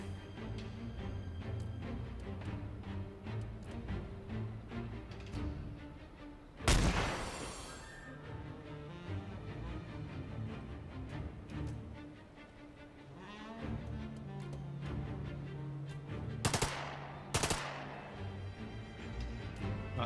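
Gunfire in The Lamplighters League turn-based combat: a sharp loud shot with a sudden burst, then two quick cracks later, over a continuous background music score.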